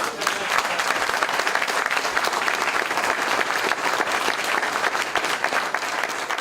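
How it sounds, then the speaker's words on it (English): Steady, dense applause from a crowd at a volunteer fire department gathering, loud and continuous throughout with no break. "let's give the Boro a big round of applause for all this food"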